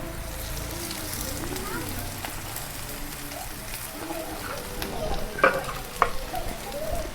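A wild leafy vegetable sizzles steadily as it fries in a pan, with scraping stir strokes and a few sharper clatters near the end.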